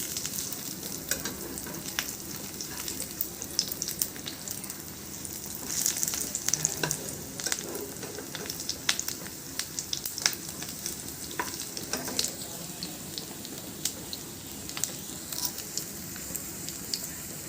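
Food frying in a pan gives a steady sizzle throughout, with stirring scrapes and clatters rising over it, close and continuous with no talking.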